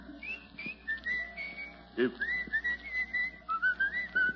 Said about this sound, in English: What are you doing whistling Pale Hands?